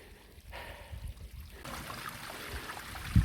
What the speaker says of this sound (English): Nice little waterfalls here, which we're going to have to kind of scramble over, but the sound's good.